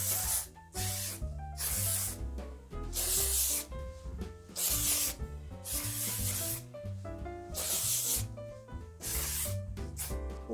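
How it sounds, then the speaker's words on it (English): Hairspray is sprayed onto curly vintage-styled hair in repeated short hissing bursts. The bursts sit under prominent background music, with no talking. "Completely gash yourself with hairspray, that's really important."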